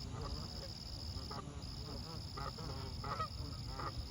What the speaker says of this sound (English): All the Canadian geese just flew in